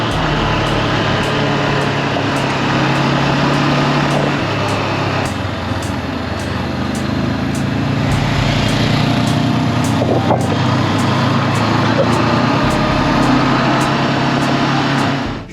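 Motorcycle ridden through traffic during a riding lesson, a steady buzzing engine drone throughout with rising and falling revs, wind rush and passing traffic, plus faint regular ticking.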